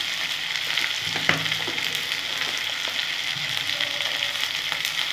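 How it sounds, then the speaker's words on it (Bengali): Potatoes fry in a pan with salt, a bright, constant sizzle filling the whole stretch, close and steady, with a single sharp clink of a utensil early on and faint stirring beneath. "বন্ধুরা আলু দিয়ে দিলাম, আলুটা একটু ভেজে নেবো।"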